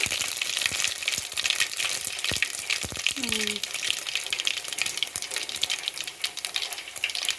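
Mustard seed tempering crackles in hot oil for mango ginger pickle, a steady bright sizzle dotted with sharp pops and spatters, with a faint voice in the background.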